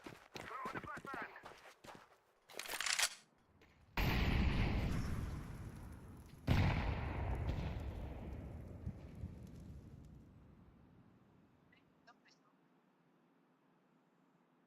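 Grenades and a flashbang go off during a competitive first-person shooter match, with sharp bursts and two loud blasts that ring out and slowly fade, between clicks, footsteps and players talking.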